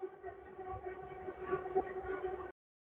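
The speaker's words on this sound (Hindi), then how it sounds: "अभी ये आवाज सुनिए आप, ये मेट्रो यहाँ से गुजर रही है" A Pink Line metro train passes more than 100 metres away, giving a faint, steady distant rumble with a tonal whine that holds for about two and a half seconds, then cuts off abruptly.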